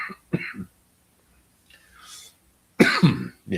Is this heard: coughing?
yes